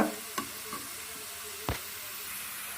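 Garlic cloves frying in oil in a pan, with a steady soft sizzle throughout and a few brief utensil clicks or stirs at irregular moments.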